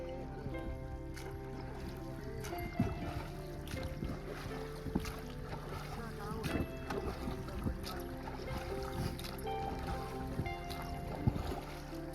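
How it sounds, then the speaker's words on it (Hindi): Small boat steered by children on the Narmada river, with faint water lapping, soft creaks and occasional knocks against the hull under a quiet outdoor background. "जब हम इस बोट में बैठे और इस बच्चे को नाव चलाते हुए देखा"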